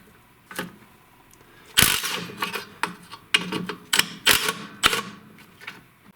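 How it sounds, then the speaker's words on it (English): A bolt with a 1/2 inch head comes off a seized Tecumseh snowblower engine. Close, irregular metallic clicks and ratcheting bursts repeat for several seconds, with no talk. "on this side, there is a bolt that needs to be removed right over here"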